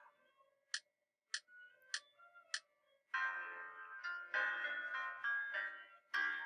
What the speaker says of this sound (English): I can do it with just the accompaniment, meaning just the piano part.